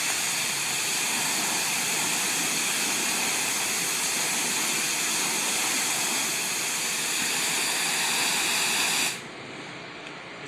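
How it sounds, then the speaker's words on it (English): A low pressure rinse system sprays water onto an asphalt shingle roof in a steady, loud broadband hiss that runs unbroken for about nine seconds, then drops abruptly to a quieter rush. "This is our low pressure rinse system."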